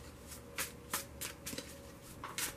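A deck of tarot cards being shuffled in repeated quick riffles, several crisp bursts close by with short pauses between them.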